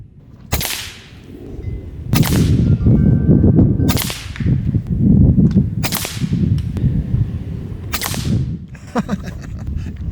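Diana Skyhawk Gen 2 PCP bullpup air rifle, regulated around 1250, firing FX domed pellets: five sharp, loud cracking shots spaced roughly two seconds apart, each with a brief ringing tail over steady low background rumble.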